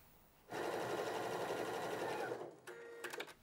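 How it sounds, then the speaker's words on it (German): A sewing machine topsteps a shirt collar: a steady, close, loud run of rapid stitching for about two seconds, then several short bursts and pauses as the seam is finished, with no talk. "Und jetzt steppen wir den Kragen nochmal ab."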